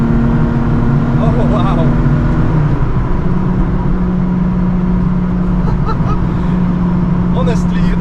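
A Lotus Exige 350 Sport drives along the road, its engine a steady, loud drone heard from inside the cabin, with a brief pitch change early on, while a person exclaims over it.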